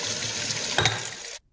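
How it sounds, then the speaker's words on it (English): Warm tap water running over a beaker holding frozen vodka, a loud, close, steady gushing stream with a brief splash before it cuts off abruptly. "To get it out of the beaker, I just have to run it under some warm water."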